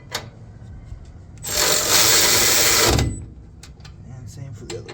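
An impact tool whirs for about a second and a half while tightening extended wheel studs on a Nissan Frontier, Xterra or Pathfinder, a loud close buzz between quieter clicks and handling noises.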